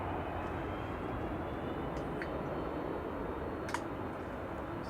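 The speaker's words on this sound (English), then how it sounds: "we've got a TUI Dreamliner heading out" A TUI Boeing 787 Dreamliner airliner departs Manchester Airport bound for Palma de Mallorca, its engines a steady, broad roar held at even loudness throughout, with no voices.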